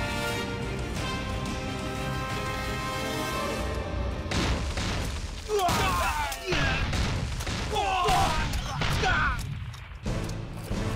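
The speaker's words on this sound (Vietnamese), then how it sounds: "Cục trưởng, cứ bắn tiếp như vậy sẽ không còn ai sống đâu." Battle scene from an anti-Japanese war action film: sustained bursts of gunfire and heavy booming explosions, dense and loud, building into crashing blasts with shouting voices in the mix.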